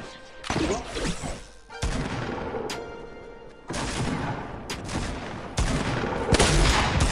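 Rapid bursts of video game gunfire from a battle against an enemy squad, loud and close, with several separate volleys and short pauses across the whole stretch.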